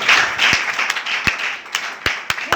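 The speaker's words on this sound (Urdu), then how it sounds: "زوردار تالیاں اس کے لیے." A church congregation breaks into loud, sustained applause during a sermon, a dense wash of clapping with a few sharp, distinct claps standing out, heard close and with no talking over it.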